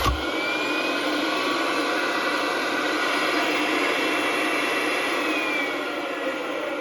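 A vacuum forming machine making custom mouthguards: a loud, steady vacuum motor roars continuously with a whining, airy hiss, starting abruptly and holding constant throughout.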